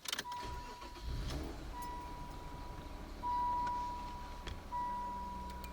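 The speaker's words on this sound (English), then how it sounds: "All right, gonna fire it up, see what happens." A 1994 Ford Probe GT is started: a short crank, then the engine catches and settles into a low idle inside the car, with a thin electrical whine and a few clicks alongside and no talking.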